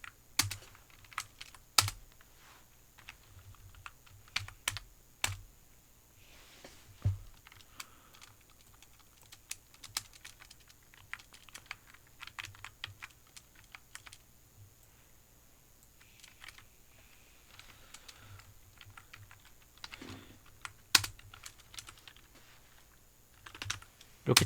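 Computer keyboard typing while writing code: irregular runs of soft key clicks and occasional louder taps over a long stretch, close and quiet, with no talking.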